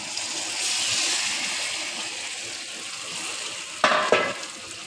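Marinated mutton sizzles steadily in a hot pan, a loud, continuous frying hiss, with a couple of sharp stirring scrapes close by toward the end.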